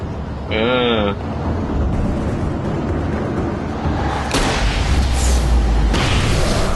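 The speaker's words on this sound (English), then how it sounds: "Flare gun." Flare gun shot in the game Alan Wake, a burst with a whistling hiss followed by booming, rumbling blasts, with a person talking over it.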